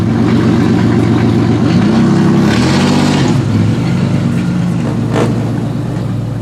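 A 1990 Pontiac 6000 with factory all-wheel drive runs steadily and loudly throughout, its engine note rising and falling as it revs and pulls away, with no talking over it.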